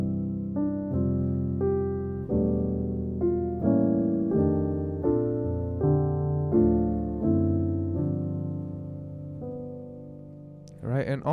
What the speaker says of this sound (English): if we played a little bit more advanced with more gospel or jazz chords, it would sound something like this.